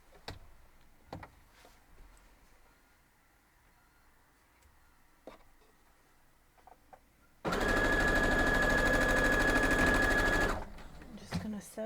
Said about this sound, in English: Sew this straight down.